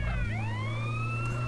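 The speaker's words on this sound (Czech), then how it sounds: "Pozor, sanitka jede." An ambulance siren wails in GTA San Andreas, a loud, close electronic tone that sweeps upward and then holds steady over a low engine rumble.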